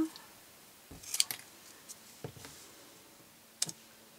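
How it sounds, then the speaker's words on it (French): Scissors snip through cardboard a few times, close and crisp, a small cluster of cuts near the start and one more a few seconds later, with quiet pauses between while making a cardboard drawer shelf piece. "Et je vais venir couper un petit peu en retrait de mon motif."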